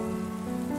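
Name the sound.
rain falling outside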